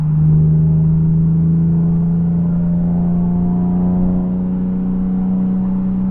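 A Nissan 370Z Nismo engine drones steadily at a constant low pitch in fourth gear at 3,000 RPM, heard from inside the cabin, with a smooth, even hum from a Fast Intentions exhaust.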